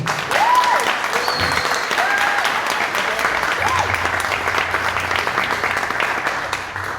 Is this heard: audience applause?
yes